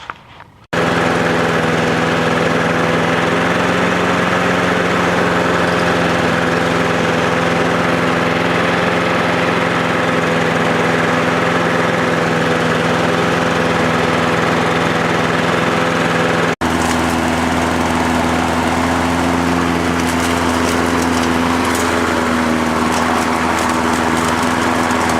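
A Craftsman lawn mower with a Tecumseh engine starts up after a brief pull, then runs at a steady, loud, close drone that shifts slightly in pitch partway through, with no talking.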